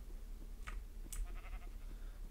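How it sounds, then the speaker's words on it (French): Sheep bleating in Minecraft 1.16.2, a couple of short thin bleats over a steady game background hum, moderately close, no talking. "Mouton, mouton, mouton."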